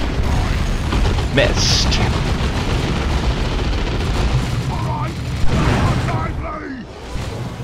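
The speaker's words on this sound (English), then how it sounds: "Red is getting bold and is attacking the northern lane again. Stick grenades!" Stick grenades go off in the Dawn of War 2 Retribution video game. Muffled in-game booms and battle noise rumble steadily under an excited commentator talking over the action.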